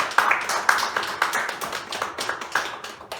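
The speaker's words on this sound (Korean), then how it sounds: "함께 박수 주십니다." Congregation at a Sunday church service clapping during an appointment ceremony, with distinct, evenly spaced claps ringing in the room, moderately loud and fading slightly toward the end.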